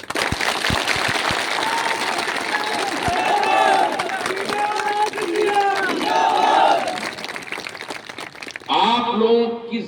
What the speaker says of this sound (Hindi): अगर मेरे बात से सहमत हो तो जोर से ताली बजाओ।